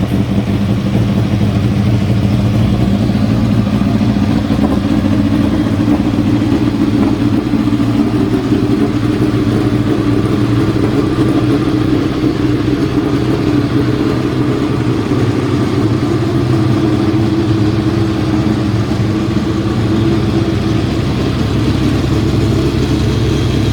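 A Formula 3 race car engine fires up on jump batteries and runs steadily for the whole stretch, a loud, close, continuous mid-pitched drone with a rough idling texture and no voices over it.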